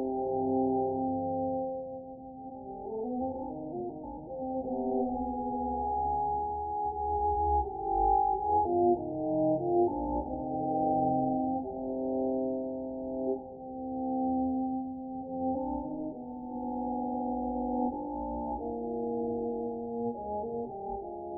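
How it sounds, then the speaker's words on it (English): A test signal tone heavily distorted by aliasing in analog-to-digital conversion: a shifting cluster of buzzy, organ-like tones below 1 kHz that warble and slide continuously throughout, with no higher frequencies present. "here's the signal with a significant amount of distortion due to aliasing"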